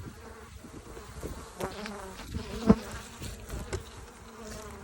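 Honeybees buzz steadily around a full hive in winter while fondant is fed, a dense close drone with individual bees zipping past, alone without talk.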